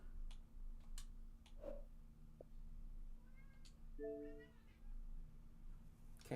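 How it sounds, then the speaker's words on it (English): Excited house cat meowing, a couple of short, rising meows set among scattered clicks and taps over a low steady hum, heard fairly near but not loud. "Cat's gone even crazier."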